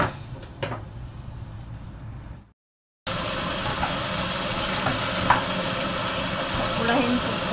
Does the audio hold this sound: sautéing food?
yes